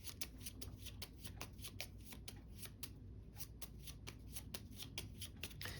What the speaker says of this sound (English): Let me shuffle that up.